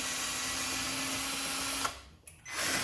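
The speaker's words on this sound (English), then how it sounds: "After it's loose, the differential bolts come out." A power tool whirs steadily while loosening a 14 mm differential bolt on a Yamaha V Star 1100 during rear wheel removal, running continuously, then briefly cutting out before resuming.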